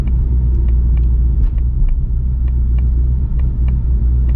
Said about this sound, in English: Still got those pops and bangs.